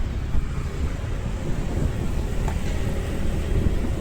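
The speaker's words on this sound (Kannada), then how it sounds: "ಗಾಳಿ ಬರ್ತಾ ಇದೆ, ಫುಲ್" Wind roars steadily against the microphone of a motorbike moving along a road under stormy skies, a constant low buffeting rush with no voices.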